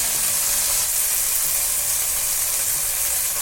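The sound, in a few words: beef stew meat sizzling while browning in a pan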